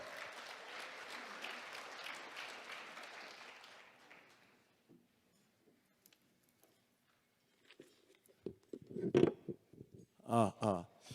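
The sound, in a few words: audience applause welcoming a speaker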